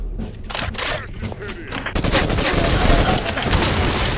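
Gunfire in a video game, a dense fusillade of rapid shots and booms that swells and continues loudly, with a voice speaking over part of it.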